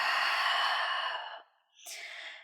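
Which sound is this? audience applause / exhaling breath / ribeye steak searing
exhaling breath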